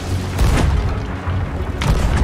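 Pirate ship cannons in the game Sea of Thieves fire a broadside, heavy booming blasts in quick succession, a few loud deep thuds with rumbling between them.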